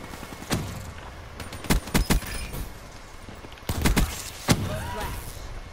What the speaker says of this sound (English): Somebody sitting here camping with a needle gun.